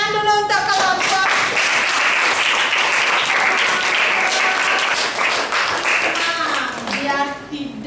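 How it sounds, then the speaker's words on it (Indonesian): A school class claps together in a steady burst of applause for a presenting group lasting several seconds, with voices briefly speaking at the start and end. "Ada tepuk tangan dulu untuk kelompok."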